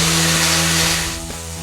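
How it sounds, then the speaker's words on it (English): Wooden parts for a wine display box are sanded to 220 grit at a sanding station, a loud, steady machine hum and whir heard close by that eases slightly near the end. "Here at the sanding station, we'll sand all the inside of the parts to 220 grit."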